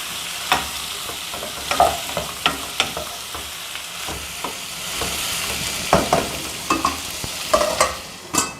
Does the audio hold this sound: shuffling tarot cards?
no